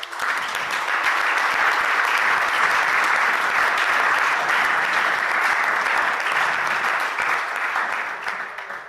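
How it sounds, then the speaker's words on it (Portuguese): A church congregation at a seminar bursts into sustained applause, dense and loud clapping from many hands that stays even for several seconds before easing off. "Vamos aplaudir o Senhor."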